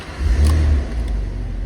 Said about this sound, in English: Let's start her up, see what she sounds like.